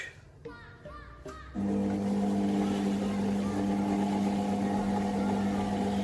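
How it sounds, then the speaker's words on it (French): An i-Cook'in food processor mixing dough at speed 2 starts up after a few clicks and a brief voice, then holds a loud, steady motor whir close by. "on va mélanger déjà 20 secondes en vitesse 2"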